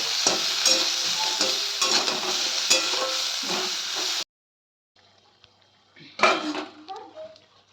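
Vegetables seasoned with salt and turmeric get stirred in a pan for a bori and greens dish, clattering utensil scrapes and light sizzling for about four seconds, then a pause and a few more clanks near the end.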